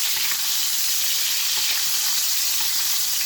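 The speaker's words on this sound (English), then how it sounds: "So we're going to hit it, baste it one more time" Steady, loud sizzle of a steak being basted in a cast iron pan while it cooks well done: a continuous hiss with faint spattering pops and no talking.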